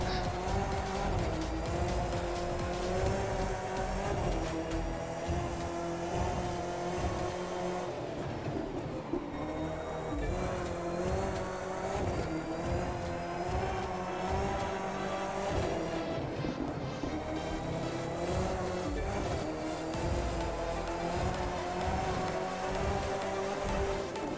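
Race cars in the video game The Crew 2, including a Ford GT, roaring steadily with tire squeal and engine drone under loud in-game music, continuous and dense throughout.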